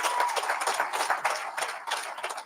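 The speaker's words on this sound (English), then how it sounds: "gigantic round of applause?" An audience at a graduation ceremony claps in a continuous ripple of applause that swells and eases over a couple of seconds, with no voices over it.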